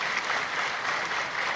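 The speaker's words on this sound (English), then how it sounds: "Can we have another big round of applause?" A crowd at a business summit in Bangladesh claps in a dense, continuous burst of applause, steady and fairly loud throughout.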